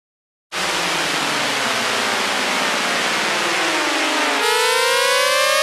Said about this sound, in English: it's literally just saw waves without it